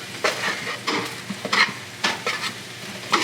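Steaks searing in a hot pan sizzle steadily while being turned, with several scraping, clattering bursts of the utensil against the pan at irregular intervals, close and moderately loud, with no talking.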